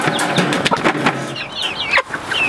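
Chickens including a broody hen cluck and chatter nearby on a farm, a run of short, uneven calls with scattered bird sounds and a possible wing flap, without talk.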